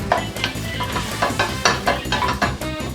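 A spoon stirs flour into clam chowder in a metal pot, scraping in a steady rhythm with light clinks against the sides, close and fairly loud, with a faint sizzle underneath.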